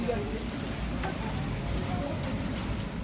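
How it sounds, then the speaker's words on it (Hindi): Heavy storm rain falls steadily on a village, a dense, unbroken hiss of drops drumming on surfaces close by. "फुल स्पीड और स्पीड है बारिश।"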